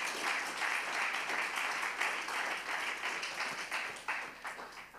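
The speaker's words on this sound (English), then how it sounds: "Clap your hand if you hear that." A congregation claps during a church sermon, a continuous crowd of hands beating at moderate loudness and holding steady before tapering slightly near the end.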